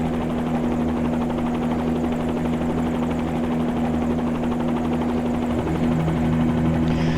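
A helicopter in Microsoft Flight Simulator 2020 over the Las Vegas, Hoover Dam and Boulder City area, rotor drone steady and loud from a close cockpit perspective, continuous throbbing hum with no talk over it.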